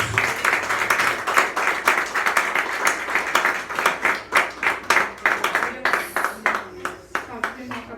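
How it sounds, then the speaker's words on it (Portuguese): Church congregation at a campaign service applauding the Lord, distinct hand claps in a steady, fairly quick rhythm, close and clear, with faint voices mixed underneath. "Você pode dizer amém e aplaudir o Senhor com as palmas em nome de Jesus."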